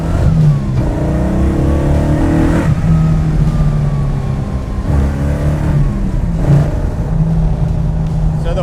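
A 1970 Dodge Charger with a 426 HEMI V8 revs and pulls hard, its loud, deep engine note rising and falling through several surges close by, with some talk underneath.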